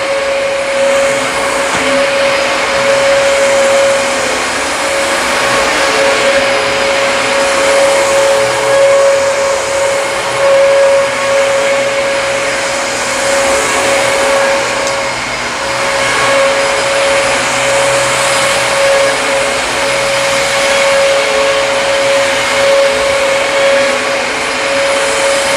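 Dyson DC33 vacuum cleaner running on a floor, a loud, steady motor roar with a constant whine, continuing unbroken and close up with no talk.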